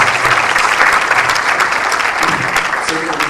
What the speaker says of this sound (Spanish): Grandes aplausos.